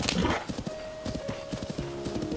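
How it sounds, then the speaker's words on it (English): Horse hooves clip-clop in a steady rhythm as a mount trots and gallops in Zelda: Tears of the Kingdom, with a brief whinny near the start and faint game music tones underneath, moderately loud and alone. "Come on, horsey, stop being stubborn. Keep moving."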